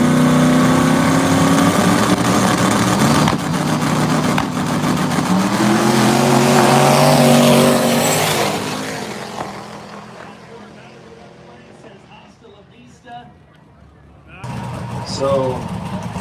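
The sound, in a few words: drag racing car with 5.3 LS turbo engine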